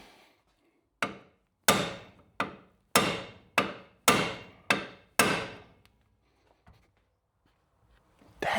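A drift is struck with a hammer against a stubborn rear axle on a Brumby build: eight sharp metallic blows in a steady rhythm, loud and close, each ringing briefly before fading, then quiet.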